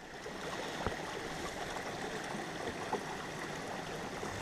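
Water sloshed and washed around a gold prospecting pan during panning of sluice material, a steady close trickling and swirling wash with a couple of faint knocks and no talking.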